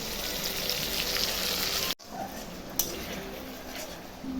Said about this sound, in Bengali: মশলা দিয়ে ভাজা হয়ে গেছে